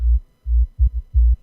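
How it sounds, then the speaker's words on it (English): Sub bass synth preset for a music track, playing a short rhythmic pattern of deep, throbbing low notes, four or five pulses separated by brief gaps, alone and fairly loud. "for the sub bass, I just use one of the sub bass presets"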